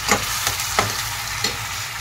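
Cashew and tomato paste frying with onion in a pan for egg lababdar gives a steady low sizzle, with a few soft stirring scrapes standing out over the constant hiss.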